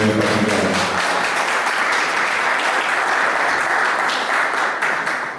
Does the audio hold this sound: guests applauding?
yes